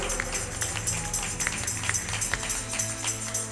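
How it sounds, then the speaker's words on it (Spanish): A church congregation breaks into applause during a Spanish-language sermon, a dense continuous patter of many hands mixed with crowd murmur, steady and moderately loud throughout. "Dale un aplauso al Señor."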